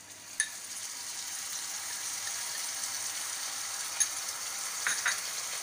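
Turmeric, masala and salt paste fries in a pan for restaurant-style kadhi pakora. It gives an even, soft hiss that holds steady throughout, with a few faint spatters and clinks.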